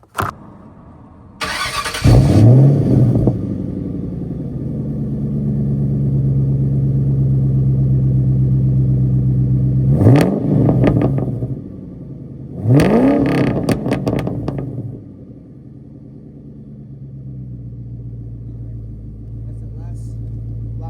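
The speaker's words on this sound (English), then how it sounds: "I just started the car" A catless V8 engine in a 1999 Ford Mustang GT fires up with a loud burst and settles into a deep, steady rumbling idle, then two sharp revs roar out before it drops back to idle.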